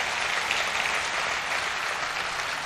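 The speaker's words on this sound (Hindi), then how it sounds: "लेकिन आपकी तालियों में जोर होना चाहिए।" Steady, dense audience applause at a comedy poetry recital, a continuous wash of clapping that holds at an even level from start to finish with no voices over it.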